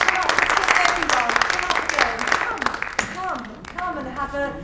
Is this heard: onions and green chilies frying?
no